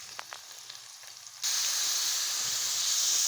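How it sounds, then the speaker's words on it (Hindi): Bottle gourd (lauki) pieces drop into hot ghee: a quiet start with a few soft clinks, then a sudden loud sizzle that holds as a continuous bright hiss. "अब हम इसमें ये लौकी डालेंगे और इसको अच्छी तरह से फ्राई करेंगे"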